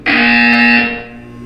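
A loud, harsh electronic buzzer from the video game Portal 2 blares for almost a second, then cuts off, leaving a fainter ringing tone.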